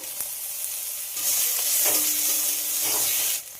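A spice paste of ginger, garlic and chopped tomato sizzles and fries in a pan while being stirred, a steady close hiss with scraping strokes of the spoon that swells louder midway.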